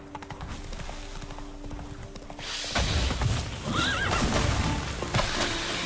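A horse in The Witcher 3 video game gives a clear whinny amid game sound effects and galloping hoofbeats, the neigh rising midway through a busy, noisy scene.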